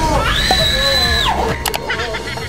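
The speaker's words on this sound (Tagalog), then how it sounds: "sumisigaw ang mga lalaking gibbon upang ipakita ang kanyang tapang at ipaglaban ang kanyang teritoryo" A male gibbon gives a loud, piercing scream that rises into a long sustained tone and then breaks off, followed by a few sharper cries over a noisy background.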